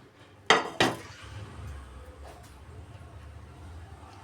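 Fried curry leaves are scooped from a pan onto a plate, giving two sharp metallic clinks of utensil on cookware followed by quieter scraping and handling.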